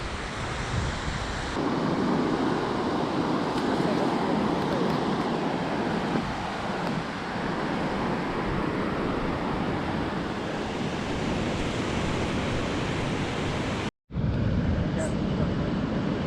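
Ocean surf washes onto a secluded beach of crystal-clear water: a loud, steady roar of waves with heavy wind buffeting the microphone, cutting out for a moment near the end.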